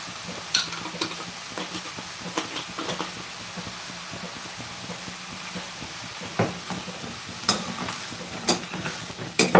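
Green and black chickpeas get stirred in a pan, with intermittent scrapes and clicks of a spoon over a soft background sizzle and no talking.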